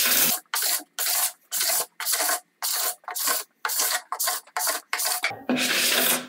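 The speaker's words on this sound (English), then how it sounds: "Scrape the remaining wax of your snowboard until a very thin film of wax is remaining" A sharp plastic scraper strips wax off a snowboard base in a run of about a dozen rasping strokes, loud and close, with brief gaps between most pulls and a longer final stroke.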